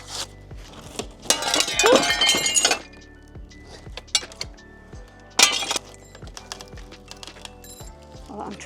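Glass panels clink and rattle as they are worked loose from a rotten old barn window, with a dense burst of chinking early on, a second sharp clatter later, and scattered lighter taps in between, all close by.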